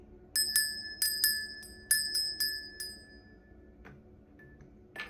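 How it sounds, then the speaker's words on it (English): A small bell is rung quietly to cleanse a space: about eight bright, clear strikes in uneven pairs and singles, each ringing briefly, close up in an otherwise hushed room. "I'm going to ring the bell very quietly."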